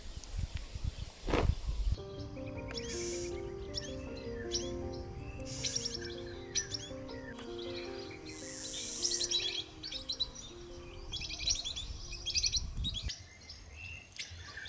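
Finches chirp in a dense, continuous chorus of rapid high tweets over a tonal hum, with faint insect-like background noise, heard at close range through most of the stretch.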